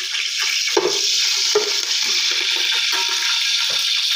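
Chopped green chilies dropped into biryani masala frying in a pan, a loud steady sizzle with stirring scrapes and occasional clatters of the spoon.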